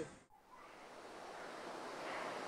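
Bhagirathi river rushing at Gangotri, a steady broad roar of fast water that swells slightly and continues without pause, close and loud with no voices.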